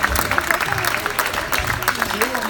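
A crowd claps at a sports fair play charter ceremony, with dense, steady applause and some voices underneath, moderately loud throughout.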